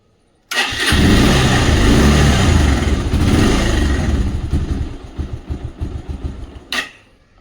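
A motorbike engine cranking and starting up loudly, then running at a steady idle for several seconds before a final clunk, close and without talk.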